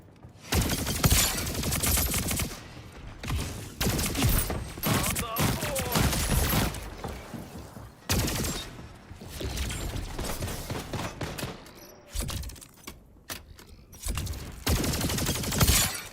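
Rapid bursts of gunfire from a Warzone match, dense and loud, continuing for most of the stretch with short breaks, with a voice now and then.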